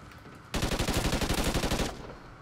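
SA-805 assault rifle firing in Call of Duty: Ghosts, a loud, close, sustained automatic burst of rapid shots lasting about a second and a half, with quieter game ambience before and after.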